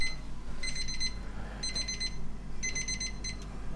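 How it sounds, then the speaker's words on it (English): A kitchen timer alarm sounds while Salisbury steak cooks, three bursts of rapid high electronic beeping separated by short pauses, steady and fairly close over a low hum of the kitchen. "That's the alarm."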